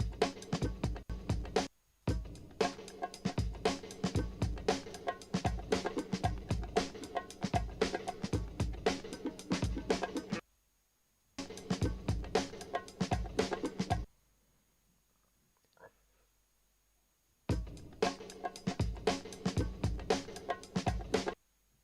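A drum break sample looping on its own, a dense run of punchy kicks, snares and busy hi-hats in a steady funky rhythm, cut off by short gaps and a near-silent pause before resuming.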